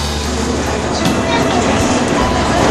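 A train moving along the track, heard from on board as a steady, continuous rumble and rattle that fills the whole stretch, with some voices faintly in the background.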